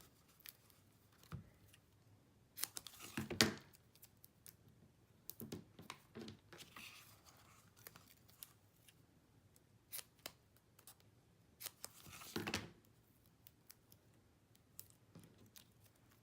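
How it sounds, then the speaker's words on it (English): Scissors snip small pieces of foam tape for a sympathy card craft, giving a scattered series of short, crisp cuts and crunches, some louder and close, with soft handling noise between them. "So I'm going to cut little pieces."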